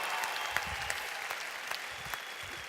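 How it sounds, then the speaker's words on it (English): Applause for a corporate team fills a hall, a steady wash of clapping from a sizable audience with a few sharper individual claps poking through. "can we give our corporate team a huge, huge round of applause to show our appreciation."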